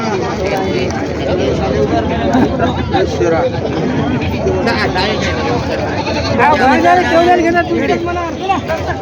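Goats bleat repeatedly amid a busy crowd of chattering voices at a large livestock market in Maharashtra, the calls overlapping with market hubbub throughout.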